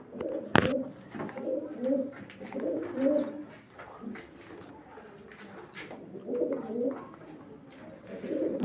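Pigeons coo in repeated throaty bursts close by, separated by brief pauses, with a sharp tap near the start and scattered soft rustles.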